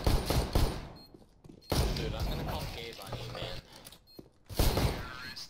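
Rapid pistol shots from a Glock in a first-person shooter game, sharp bursts clustered at the start and end with a busy stretch of game noise between, loud and close.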